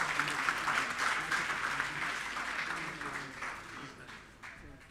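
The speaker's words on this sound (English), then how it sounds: "Shall we please, one more time, give him a round of applause?" A conference audience at a Commonwealth Hansard editors gathering gives a round of applause, dense clapping that starts strong and slowly thins and fades, with faint voices mixed in.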